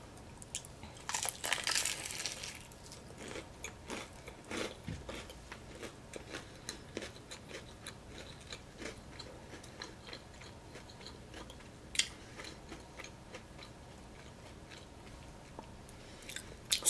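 Crunchy bites and steady chewing of a crispy fried veg samosa, with a loud crackling crunch at the start followed by many close, irregular chewing and crinkling sounds, and no talking.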